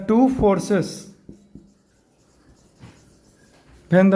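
Faint scratching and tapping of writing on a board during a physics lecture on force and pressure, sitting in a quiet pause between stretches of a man's speech at the start and end.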